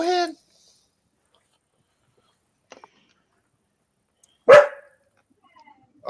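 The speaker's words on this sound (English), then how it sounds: "you just wanted to come out here and bark at stuff" Outdoors, a dog lets out a single sharp bark, with another brief bark cut off at the end and near-silence in between.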